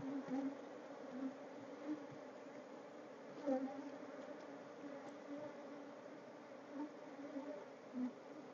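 Honey bees buzz steadily around an open hive while its lid is handled, a dense continuous drone with small swells, moderately close and even throughout.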